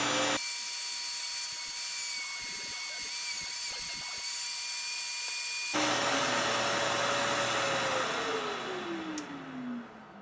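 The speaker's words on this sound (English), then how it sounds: "we have the router set up on the jig, set to cut through the 1/4 inch MDF" A router on a jig cuts through 1/4 inch MDF backed by an MDF backer board, a loud steady high-pitched whine that shifts pitch midway as the bit bites into the board, then winds down toward the end.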